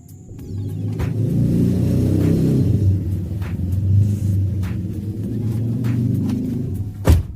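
Modified 2014 Toyota Avanza G 1.3 manual with an aftermarket exhaust, running with a deep, steady rumble that rises slightly at times, close by, ending with a short sharp knock.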